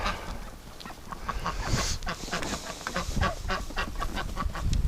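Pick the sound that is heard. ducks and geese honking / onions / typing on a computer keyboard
ducks and geese honking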